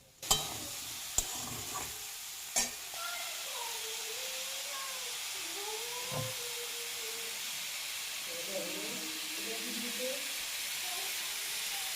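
Papaya and potato pieces are fried and stirred in a pan while their water cooks off, heard as a soft sizzle and hiss with a few sharp clanks of the spoon early on and faint voices in the background.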